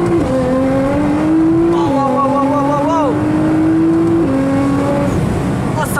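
A 700 hp Nissan GT-R roars loudly under hard acceleration, its engine note climbing and dropping through gear changes before heavy braking, close and continuous throughout with a voice speaking over it.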